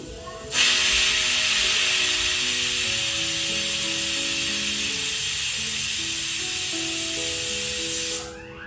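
Loud, steady hiss of steam escaping from a pressure cooker with tomato dal inside, starting abruptly and running unbroken for about eight seconds before cutting off, with faint music beneath.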